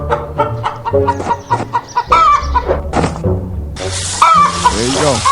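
A chicken clucks loudly and close in a busy mix of sharp, choppy calls, with other sounds layered over it in the second half.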